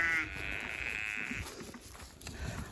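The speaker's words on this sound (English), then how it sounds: "I'll turn this fence off and get these sheep in before they break down the fence trying to get to me." Sheep bleating close by near an electric fence on a farm, one clear drawn-out bleat followed by fainter calls from the flock over outdoor background noise.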